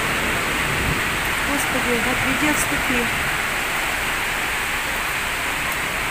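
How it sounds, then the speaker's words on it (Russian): A heavy hailstorm batters the surroundings with a dense, loud, unbroken hiss and clatter, while a frightened voice prays aloud over the din. "Сильный град огромный."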